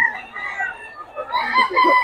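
Chickens and roosters at a busy market in Bocaue cluck and call close by. The dense, overlapping squawks and crowing grow louder toward the end.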